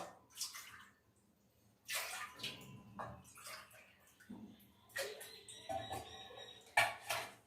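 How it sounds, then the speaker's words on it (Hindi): Water poured from a small bowl in a home kitchen while preparing rice pitha, arriving in a few separate splashy bursts with short pauses between them, close and fairly quiet. "ये कटोरी है, इससे 3 कटोरी पानी लेंगे।"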